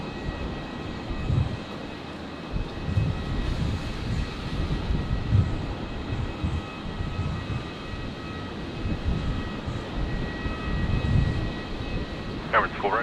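A Boeing 777 airliner at Brisbane International Airport at night, a broad, steady engine roar rumbling at a distance and holding for a long stretch, with faint chirps near the end.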